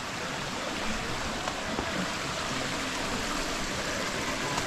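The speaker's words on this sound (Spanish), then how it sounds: "Ahora viene mucha agua, ¿eh? Pero está tapado." A heavy flow of water rushes through the floodgates at Ejutla, a loud, steady, close roar of churning water that does not let up.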